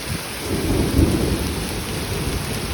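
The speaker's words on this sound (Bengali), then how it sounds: "এই যে আমাদের বাসার সামনে দিয়ে এই যে বৃষ্টি আর বৃষ্টি" Heavy rain pours in front of a house by a hospital in Saudi Arabia, a dense steady wash with a deep rumble of thunder swelling near the middle, no voices.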